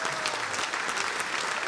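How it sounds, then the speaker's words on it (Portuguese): Dense, steady applause from a church congregation during a Portuguese-language vigil service, a continuous wash of many hands clapping. "dê uma salva de palmas para Jesus"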